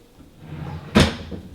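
A drawer on a baby changing table slides shut with a single sharp knock, close and fairly loud, after a soft scraping lead-in in an otherwise quiet room.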